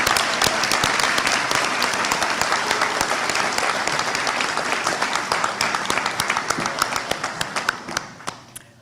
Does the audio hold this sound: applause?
yes